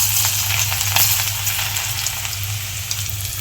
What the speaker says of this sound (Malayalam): അപ്പോൾ എന്തായാലും നമുക്ക് വെളുത്തുള്ളി ഇട്ട് കൊടുക്കാം